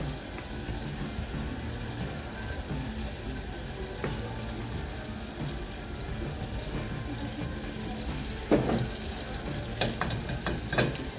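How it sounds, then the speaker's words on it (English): A pot of water boils steadily for cooking ugali, a continuous bubbling hiss that fills the whole stretch, with a few clinks and stirring knocks near the end. "My water is already boiling, you can see it. So I'm going to start cooking the ugali."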